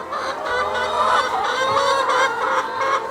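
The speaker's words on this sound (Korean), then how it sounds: "지금 이 닭들은 아침에 모이를 먹고 지금 아주 한가롭게 거닐면서 남은 모이를 더 먹거나 바닥을 파면서 놀거나" Chickens on a poultry farm, wandering and pecking at leftover morning feed, cluck in a dense, overlapping chorus. The calls are close and loud, with no talking.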